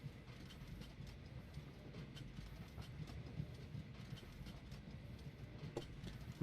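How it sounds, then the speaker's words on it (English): Trains rolling around a looping track in the railway-building video game Train Valley 2, a faint, steady low rumble with soft rhythmic clicking of wheels carrying on throughout. "I'm just keeping an eye on these trains that do the loop."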